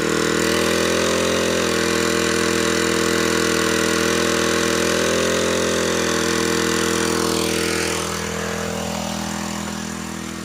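A grass cutter's small engine driving a water pump runs at a loud, steady high-revving drone without load, then eases down slightly toward the end.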